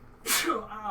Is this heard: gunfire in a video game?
no